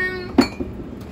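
A mixing bowl is handled in a home kitchen, giving one sharp clink followed by a softer knock, brief and close with no talk.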